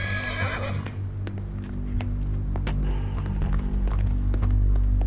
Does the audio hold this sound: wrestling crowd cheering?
no